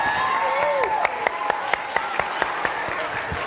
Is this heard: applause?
yes